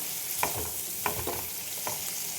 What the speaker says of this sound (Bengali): টমেটো, রসুন, পেঁয়াজ, আদা এগুলো আমি একবারে ভেজে